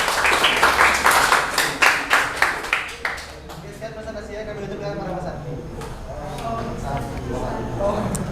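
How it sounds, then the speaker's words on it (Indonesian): Classroom applause for a student group after a presentation, a burst of clapping over the first few seconds that fades into murmuring voices and room noise. "Tepuk tangan untuk kelompok 3"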